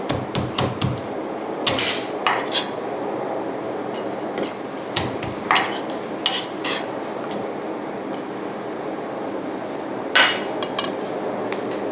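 Roasted shallots are pounded with a series of sharp, irregular knocks, some in quick clusters and others spaced apart, close and fairly loud over a quiet background.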